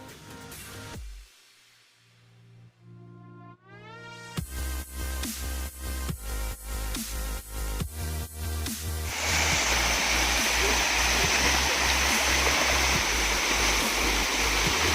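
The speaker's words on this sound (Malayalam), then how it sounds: "മേലെ കല്ലെടുത്ത് എറിയുന്ന പോലൊരു ഫീലാണ് ഈ വെള്ളച്ചാട്ടത്തിൻ്റെ അടിയിൽ നിൽക്കുമ്പോൾ" Paloorkotta waterfall pours down heavily onto a person standing beneath it, a loud, dense roar that swells and stays constant after a quieter, patchy start.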